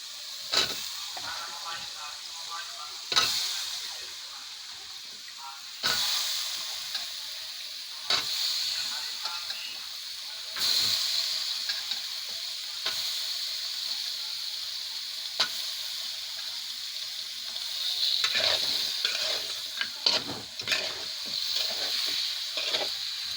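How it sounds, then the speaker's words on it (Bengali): Spices with cumin, coriander and salt sauté in a pan with washed broad beans and potatoes, a steady close sizzle broken by repeated scrapes and clanks of a spatula stirring. "মশলা ভালো করে কষিয়ে নিয়েছি, এখন ধুয়ে রাখা সিম আলুগুলো দিয়ে দিব।"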